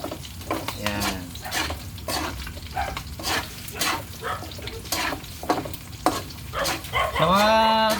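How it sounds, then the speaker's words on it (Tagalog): Food crackles and sizzles in hot oil while a utensil stirs and scrapes in repeated strokes; a brief whine rises near the end. "Ganyan po ang tamang pagpiprito."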